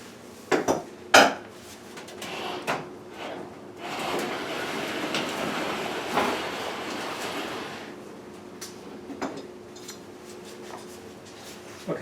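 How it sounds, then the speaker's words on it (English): A gas stove is dragged out from the wall, making metallic clanks and knocks at the start. A sustained scraping rumble follows as it slides across the floor, ending in a few faint bumps. "let's pull the stove out and we'll disconnect it"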